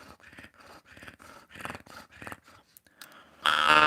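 A jaw harp played with an inward, snore-like breath gives a run of rhythmic, growling pulses. A louder, noisier burst of sound closes the passage.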